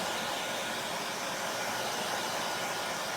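A hair dryer blows steadily over wet chalk paste on a craft project, a close, loud, continuous broadband whoosh that holds unchanged throughout with no talking.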